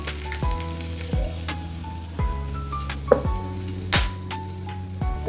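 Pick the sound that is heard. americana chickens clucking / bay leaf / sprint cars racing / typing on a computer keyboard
bay leaf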